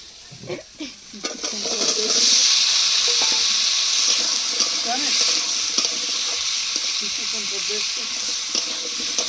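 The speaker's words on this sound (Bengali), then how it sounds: "মশলা খুব সুন্দর করে কষিয়ে নিয়েছি এবার কেটে রাখা আলু দিয়ে দেবো" Cut potatoes drop into a well-fried spice paste for a Bengali fish curry with thankuni leaves, a few clattering knocks followed by a loud, close sizzle that swells and holds steady while being stirred.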